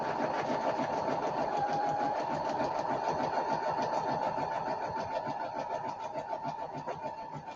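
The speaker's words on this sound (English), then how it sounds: "Sewing has commenced." A sewing machine stitching along the sides of a fabric project, a fast, even mechanical whir of rapid needle strokes at close range, slowing slightly toward the end, with no talk.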